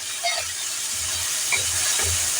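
Chopped tomatoes hit a hot pan over low flame, producing a steady hiss and sizzle with soft stirring clunks underneath.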